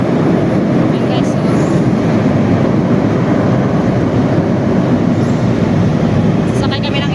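An LRT train runs through Manila as a steady, loud rumble of wheels and carriage noise fills the whole clip, with a faint high whine near the end.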